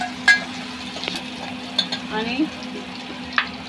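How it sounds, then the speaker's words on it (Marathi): Chopped onion and green chili sizzle steadily in hot oil for a tempering, a continuous close frying hiss broken by a few clinks of a spoon against the pan, with a brief word spoken over it. "हे सर्व तेलावर फोडणी छान अशी परतून घ्यायची"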